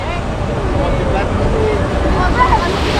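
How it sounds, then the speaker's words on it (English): A big jet engine on a low-flying airliner roars over Maho Beach beside the St. Maarten airport, a loud, steady broadband rush like strong wind and jet blast that fills the whole stretch, with voices faintly mixed in. "That's a big engine right there."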